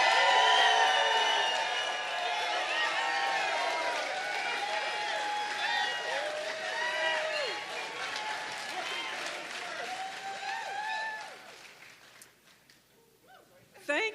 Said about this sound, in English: let's give a giant round of applause for the great former mayor of Fitchburg, our friend, Francis Hunley Cooper